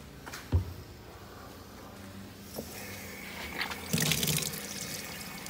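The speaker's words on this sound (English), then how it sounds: "put some water in it real quick and dilute it." Water splashes and trickles into a container of bubblegum-scented foaming car wash soap, with a few knocks and handling clatter before a louder burst of pouring near the end.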